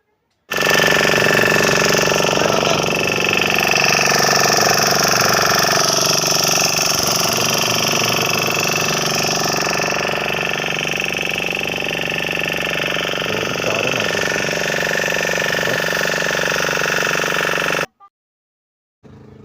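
A motor boat engine drones loudly and continuously on Chilika lake with a steady mechanical rattle, then cuts off abruptly near the end.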